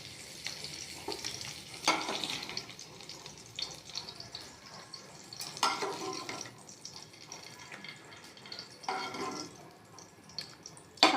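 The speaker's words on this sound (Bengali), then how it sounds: "দিয়ে তেজপাতা জিরে ফোড়ন দিয়ে আদা, পোস্ত বাটা," Bay leaf and cumin tempered in hot oil with ginger and poppy paste for a paneer dish, giving a steady close sizzle with recurring stirring scrapes and utensil knocks, no voices.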